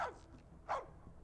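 A dog barks twice, short sharp yaps about half a second apart, close and moderately loud against a quiet room.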